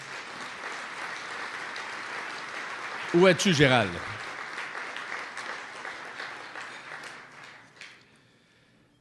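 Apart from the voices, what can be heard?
audience applause at a conference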